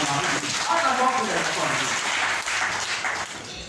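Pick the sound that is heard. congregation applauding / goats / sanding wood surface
congregation applauding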